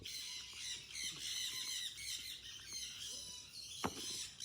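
Pet birds squawk and chirp in a garden, a steady high chatter of calls with one sharper, louder squawk near the end.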